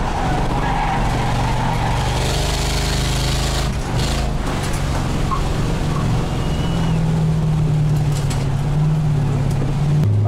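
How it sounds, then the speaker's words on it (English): A race car's engine stumbles and runs roughly after nitrous is engaged during endurance racing, its loud, uneven drone rising and dipping with a brief break partway through. Heard from on board, the engine's pitch climbs steadily toward the end. "As soon as I hit the nitrous, the car starts running really bad."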